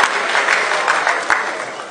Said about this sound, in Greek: Ένα θερμό χειροκρότημα για τους δικούς σας ανθρώπους.